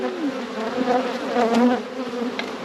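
Honey bees swarm around an opened hive during early spring splits, a loud, close, wavering buzz of many insects that continues throughout with no talk.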